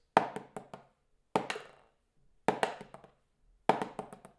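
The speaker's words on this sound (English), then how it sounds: "And not too open that you're not getting enough strokes like this." Four short orchestral snare drum buzz rolls played too open, each a sharp stroke followed by a few loose, separated bounces that quickly die away, with pauses between them.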